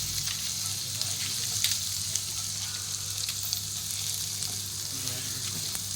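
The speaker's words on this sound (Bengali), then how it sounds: "রসুনটাকে বাটারের সঙ্গে একটু লাল লাল করে ভেজে নেব" Chopped garlic fries in hot butter in a pan for a white sauce pasta, giving a constant close sizzle with occasional light crackles and a few gentle stirs.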